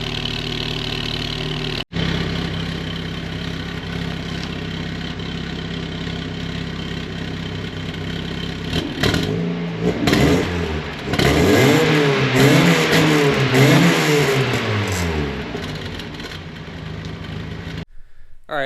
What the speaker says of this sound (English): I'm gonna let it run for a little while and then give it some revs and see what happens